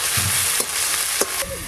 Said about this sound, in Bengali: এবার দেব আদা জিরে বাটা, টমেটো কুচি, লবণ।